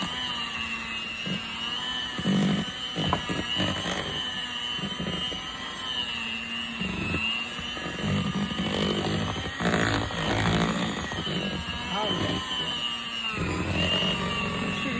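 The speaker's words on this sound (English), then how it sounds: "got my mixer" Electric hand mixer whipping peanut butter pie filling, a loud constant high whine with shifting pitch and rattling as the beaters churn through the thick mixture, running throughout with no speech.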